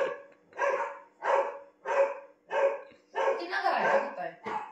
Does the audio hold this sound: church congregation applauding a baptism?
no